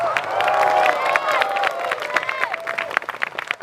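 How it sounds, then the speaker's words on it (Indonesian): Female students at a pesantren event for the 96th anniversary of Nahdlatul Ulama, Pondok Pesantren Tebuireng 3, clap and cheer as a crowd, a dense sustained burst with scattered voices that thins toward the end. "Kalau dilihat dari tepuk tangannya pasti itu santri putri."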